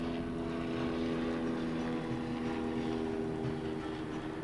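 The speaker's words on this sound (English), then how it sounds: "I have no idea if my microphone would have picked up that helicopter that flew past, but it was pretty close." A helicopter passes close by, its steady rotor drone and engine hum filling the clip at a constant, fairly loud level.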